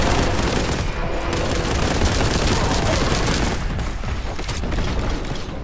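Rapid weapon fire from a plasma gun in the shooter game Warhammer 40K: Boltgun, a dense, loud barrage of bursts and booms running nonstop with no gaps.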